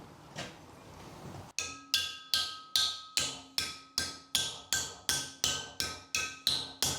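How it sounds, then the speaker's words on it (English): A metal part for a Locost 7 kit car is hammered to bend it: a steady run of about fifteen loud, ringing metallic blows at an even pace, close by, after a brief noisy lead-in. "If you hit it hard enough, it'll bend."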